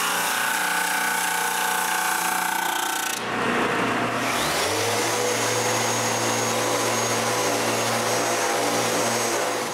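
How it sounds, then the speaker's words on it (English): A drum sander sanding wooden dowels: a loud, steady machine roar with a low hum runs throughout, briefly cutting out and then revving back up to a constant sanding drone. "I cut the dowels just before passing this into the drum sander"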